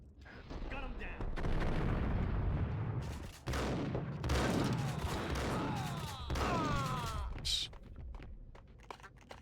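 Heavy gunfire in the Max Payne shooter, dense loud volleys of shots with brief pauses between bursts and a few ringing ricochet-like tails, a voice occasionally underneath.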